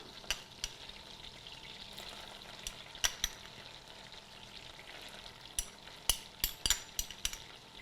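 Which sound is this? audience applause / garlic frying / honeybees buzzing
garlic frying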